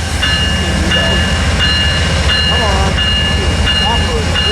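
Freight locomotives 167 and 63 are departing Fullerton. The loud, constant rumble of the engines sounds close, with repeating ringing tones and squeals layered on top.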